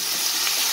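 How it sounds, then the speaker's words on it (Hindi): Squid pieces dropped into hot masala in a pan and stirred, giving a short, steady frying hiss with soft scraping, close and fairly loud, with no voices. "अब ये सारे हम इसमें डाल के इसे एक अच्छा सा स्टर देंगे"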